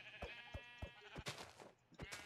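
Sheep in Minecraft bleat in a quick series of short, separate calls, with several close bleats spaced roughly a third of a second apart and no talking.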